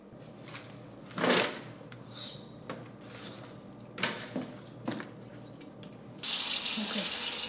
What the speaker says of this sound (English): So I'm going to wash these vegetables and put them into a clean bowl.